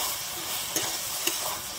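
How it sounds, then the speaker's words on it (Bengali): Cooked chikni saag being stirred with raw mustard oil in a pan: a steady soft hiss and rustle of mixing, with two brief light clicks of the utensil against the pan, close and even. "দিয়ে আমি এবারে শাকের সঙ্গে ভালোভাবে একটু মিশিয়ে নিচ্ছি"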